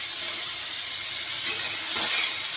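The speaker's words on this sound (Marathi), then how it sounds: "आता आपण टोमॅटो भाजून घेणार आहे. टोमॅटो मध्ये पण थोडंसं तेल घालणार आहे." Tomatoes roast in a little oil in a pan with a steady, close sizzling hiss that holds at an even level throughout.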